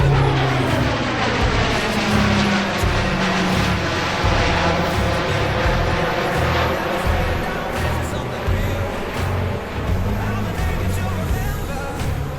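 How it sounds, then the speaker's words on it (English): Fixed-wing aircraft touching down at a Fleet Week airshow and going straight to full reverse thrust, a loud, continuous roar of engines and propellers that stays steady and close throughout. "They will touch down and immediately reposition the aircraft to full reverse."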